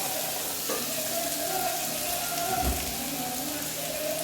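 Sliced onions sautéing with a little salt in a pan, a steady close sizzle and crackle with a light stir or clunk midway.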